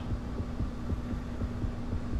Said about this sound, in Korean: 어, 심장 소리 계속 들려